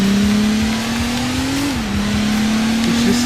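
Race car engine from Sega GT 2002 holding a steady drone that climbs gradually, then dips briefly as it shifts, and settles again, loud and continuous with no voices.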